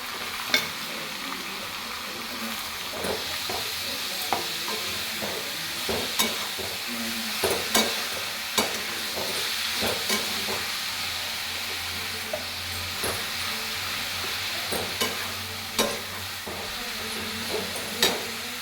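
Squeezed grated radish goes into a pan with turmeric and sizzles steadily while a spatula scrapes and taps the pan in irregular strokes, close and continuous, with no speech.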